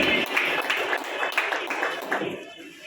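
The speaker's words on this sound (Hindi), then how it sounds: "भरपूर तालियां होनी चाहिए इनके लिए।" An audience claps at a roof inauguration ceremony, a steady run of sharp claps at moderate loudness that thins out near the end, mixed with voices talking over it.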